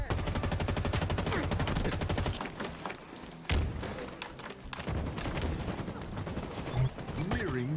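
Rapid automatic gunfire in Halo Infinite rattles in steady bursts, with thuds and booms mixed in, loud and close throughout a match as a voice talks over it.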